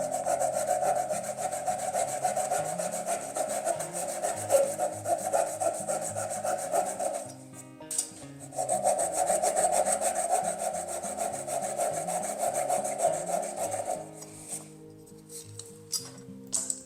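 A hand saw cuts wooden dowels flush with back-and-forth, steady, rasping strokes, stopping briefly twice before resuming; close up and no voices.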